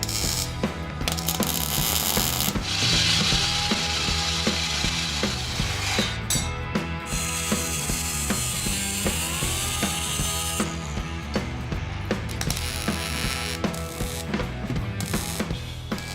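A power tool cuts the end off a metal part in a custom garage. The harsh, loud, continuous grinding and sawing noise runs steadily the whole time with no pauses.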